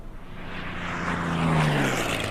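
Droning propeller aircraft engine sound effect from the strategy video game Order of Battle during a bomber attack, a steady broadband roar that swells slightly with a low tonal hum, no speech.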